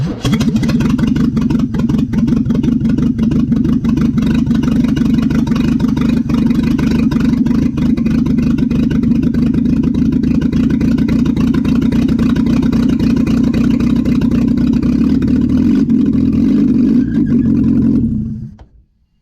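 The engine of a barn-find Opel GT runs at its first start after sitting, a loud, close, steady mechanical drone that holds for a long stretch before cutting off.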